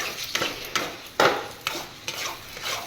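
Sticky mawa halwa being stirred in a pan, a series of close, rhythmic scraping strokes of a spoon against metal about every half second over a faint sizzle.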